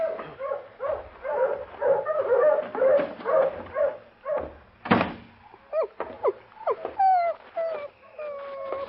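Newborn puppies in a shed, an old-time radio drama scene with a litter of seven: muffled shuffling and a thump, then a series of thin, rising whimpers and squeaks, fairly close and moderately quiet.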